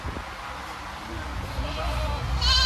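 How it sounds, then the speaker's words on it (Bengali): A large castrated goat bleats at the crowded Gabtali cattle market in Dhaka, one rising nasal call near the end over a steady background of market chatter and talk. "তো শুনতে পাচ্ছেন বিশাল সাইজের খাসি"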